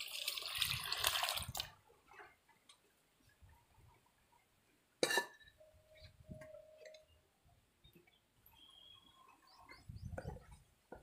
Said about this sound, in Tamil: பருப்பு தண்ணி ஊற்றிக்கலாம்.